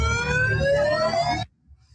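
A police siren wails loud and close, its rising tone sustained over a rumbling background before cutting off abruptly, leaving near silence.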